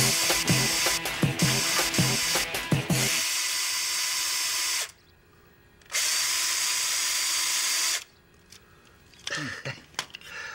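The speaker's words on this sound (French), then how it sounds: "Vous êtes le Mario Lemieux de la perceuse" A handheld power drill runs in loud sustained bursts, two long even whines separated by short pauses, with clattering handling noise and brief revving at the start and end.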